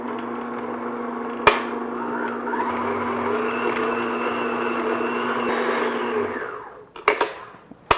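Electric mixer beating butter on medium-low speed, a steady close whir running about five seconds between a sharp click at the start and clunks as it winds down, no talk.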